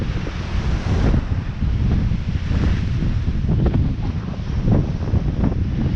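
Stormy sea waves surge against the Blackpool sea wall, a heavy roaring wash buffeted by strong wind noise on the microphone, continuous and loud with no pauses.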